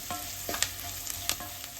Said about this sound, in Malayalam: ഈ സവോളയുടെ കളർ ഒന്നുകൂടി ചേഞ്ച് ആവണ വരെ ഇളക്കാം